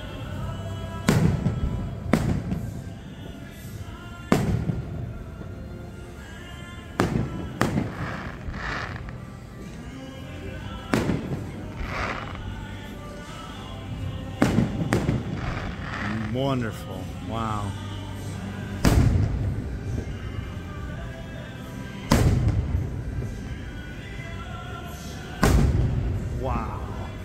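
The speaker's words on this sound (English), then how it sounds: "Here's a good spot for the fireworks." Repeated deep booms and thuds of Independence Day fireworks at Carowinds amusement park, spaced a few seconds apart, with crackling bursts in between, while a person speaks briefly over them.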